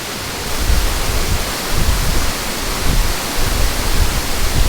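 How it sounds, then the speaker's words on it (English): A waterfall in Litchfield National Park pours nearby as a dense, even hiss and rumble of falling water, loud and continuous with slight surges, with no talk. "There's just something about a waterfall"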